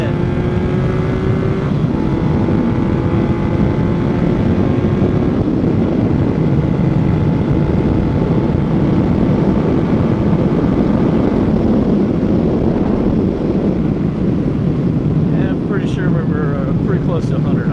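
A 1980 Yamaha XS850 Special motorcycle engine runs at quarter throttle, a loud, steady roar that climbs slowly in pitch as it builds, with heavy wind rush throughout.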